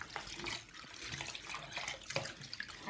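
Fidget toys rinsed under a steady stream of running tap water, a continuous close splashing and gushing with small bursts as the items shift under the flow.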